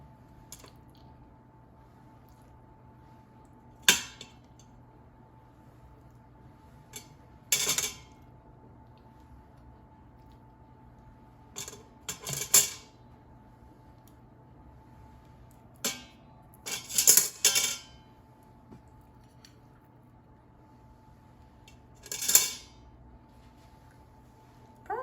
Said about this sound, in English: Let's take them out of the Instant Pot.